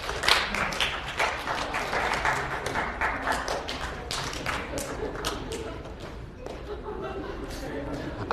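A lecture-hall audience in a psychology class claps in scattered bursts, with sharp overlapping claps and taps rising and falling across the room, mixed with murmuring voices throughout.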